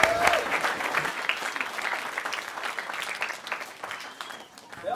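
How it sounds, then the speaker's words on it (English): An audience claps in sustained applause to welcome a speaker at a family camp event, a dense crowd patter that is loud at first and slowly tapers over several seconds. "a round of applause"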